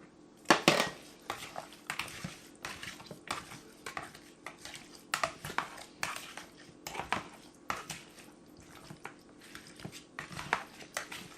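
Oiled chicken wings are tossed with seasoning in a bowl, giving continuous close clattering and soft wet shuffling with irregular louder knocks against the bowl.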